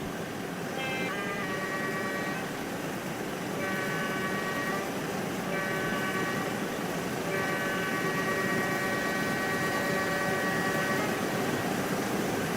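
An Amtrak Metroliner train in the RO-Scale Sandbox game rumbles past with a steady, continuous roar, while a train horn sounds in several repeated blasts over it; no one speaks.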